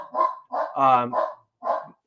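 A dog barks in a rapid run of four or five loud, close, throaty barks with short pauses between them, heard in an indoor podcast setting.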